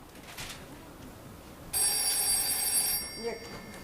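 A telephone bell rings in a home during an Italian stage comedy, one bright, metallic ring lasting about a second after a quiet room, then cutting off.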